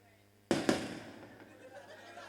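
Two sharp firecracker bursts, close and loud, set off during a village drama performance, with a short crackling tail fading after them.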